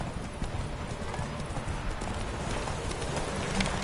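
Roach, Geralt's horse in The Witcher 3 on PS4, gallops with a rapid, steady clip-clop of hoofbeats, close and continuous.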